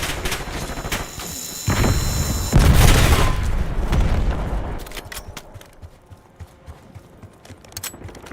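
Frag grenade blasts and gunfire in a multiplayer shooter video game: loud booming explosions and rapid rattling shots in bursts, fading into scattered lighter pops and clatter.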